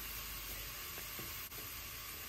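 Onion and crushed garlic sizzle in olive oil in a pan, with a soft steady hiss and a couple of faint stirring scrapes, brief and fairly quiet, with no talk.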